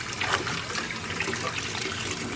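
Water trickles and splashes steadily as snow pea leaves are washed in a bowl, a continuous close liquid wash with no talking.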